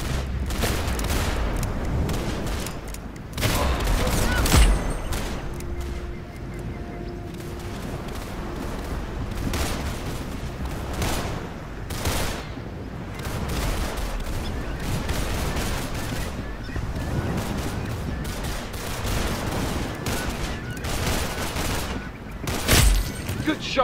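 Rapid gunfire rattles almost nonstop through a Roblox Arsenal match, sharp repeated shots and bursts layered over a busy game mix with voices talking throughout.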